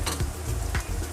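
Ginger and garlic sautéing in a pan for an Andhra-style amaranth-leaf ullikaram, a brief close sizzle broken by soft stirring scrapes, with no talking.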